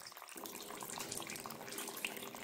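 Water draining out of an Elektra Semiautomatica espresso machine, a steady soft hiss and trickle of flowing water, faint and continuous, with no talking.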